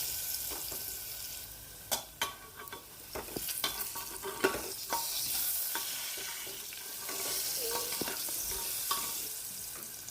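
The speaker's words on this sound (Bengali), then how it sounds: "লাল লাল হয়ে গেছে আমার আলু ভাজা।" Potato pieces with salt and turmeric frying in hot oil in a pan, a steady sizzle broken by repeated scraping and clinking stirs of the spatula, close and fairly quiet, with no talking.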